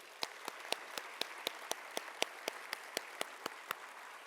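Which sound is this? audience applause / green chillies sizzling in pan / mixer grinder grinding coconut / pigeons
audience applause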